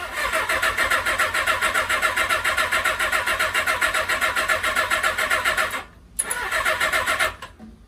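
A 1981 Suzuki GS550 motorcycle engine starting: a close, loud, steadily pulsing mechanical churn that stops abruptly, then resumes briefly before fading out.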